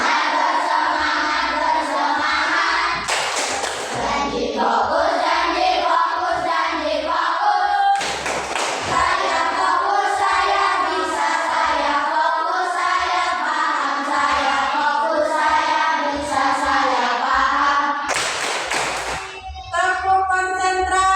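Classroom pupils perform the 'tepuk janji fokus' clapping chant, loud rhythmic hand claps mixed with children's sung chanting voices, with sharp clap bursts recurring throughout.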